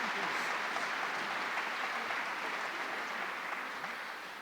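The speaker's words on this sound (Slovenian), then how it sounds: "lahko že en aplavz" An audience claps warmly for a singer at the Medvode brass band's New Year concert, a dense, even wash of applause that carries on throughout and eases slightly at the end.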